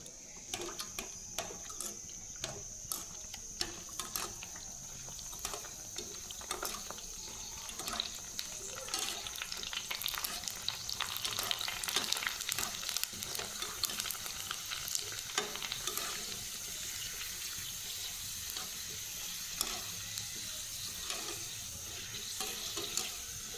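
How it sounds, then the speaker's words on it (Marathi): Thin pani puris fry and puff in oil over a low gas flame, a soft continuous sizzle with bubbling and occasional light clinks, fairly faint and close, with no talking. "एकदम बारीक गॅसवर ह्या पाणीपुऱ्या तळाव्या लागतात"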